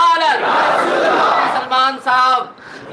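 A crowd at a religious gathering roars a loud, massed chanted response to a Nara-e-Risalat call, sustained for about a second and a half, then two more short, shouted bursts.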